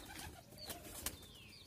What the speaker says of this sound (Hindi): नीचे नीचे आ गए अपने सारे कबूतर